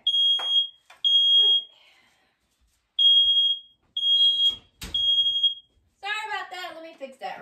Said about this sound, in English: Let's see if the alarm's gonna go off.